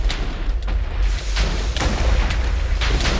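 Explosions go off in a Minecraft multiplayer battle, a series of five or six sharp, loud booms spaced irregularly over a constant rumbling background.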